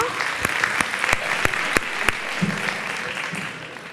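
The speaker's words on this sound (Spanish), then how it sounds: "vamos a dar un aplauso de ánimo" An audience at a speed-coaching event applauds to encourage a volunteer. Dense clapping is punctuated by a few sharp, loud individual claps, then tapers off as a voice begins.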